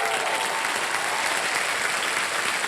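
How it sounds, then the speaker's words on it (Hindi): Studio audience applauding on a Hindi quiz game show, a dense, steady wash of clapping filling the whole stretch at even loudness with no voices over it. "एक बार फिर जोरदार तालियां बज जाए इनके लिए।"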